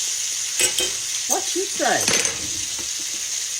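Chicken fried steak sizzles steadily in hot frying grease in a home kitchen, a constant close hiss with a few metallic clinks of a utensil and a brief spoken question.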